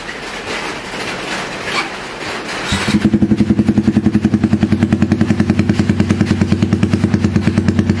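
After a brief stretch of background clatter, a motorcycle engine freshly serviced with new oil starts and settles into a loud, close, steady idle with an even rapid chugging pulse.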